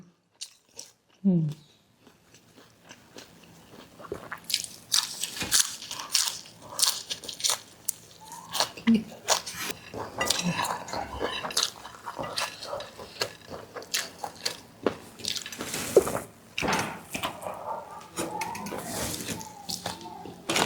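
Rice mixed with crispy chili paste is eaten with fried sun-dried squid, boiled egg and fresh vegetables, giving close crunchy chewing and clinks of cutlery against a plate while a person talks throughout.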